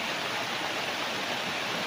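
A river beside a farm lot in Nagcarlan, Laguna, rushes steadily, a continuous broadband wash of flowing water heard close and fairly loud with no voices over it.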